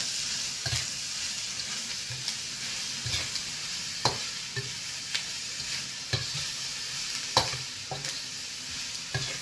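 Steady crackling sizzle of stuffed chicken crisping in oil, with occasional scraping stirs and soft clinks of a utensil against the pan.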